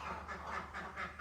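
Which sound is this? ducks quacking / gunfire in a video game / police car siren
ducks quacking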